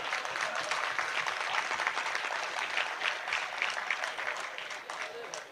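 An audience at a Hindi poetry event claps, a dense, steady round of applause that fades slightly at the end, with a voice faintly underneath.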